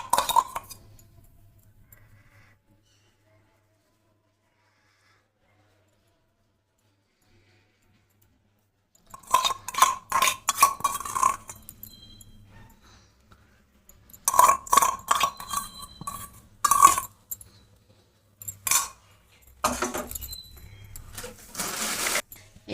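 Yogurt eggplant (doi begun) goes into a serving dish with bright clinks of metal and glass dishware, arriving in several separate bursts between long quiet stretches.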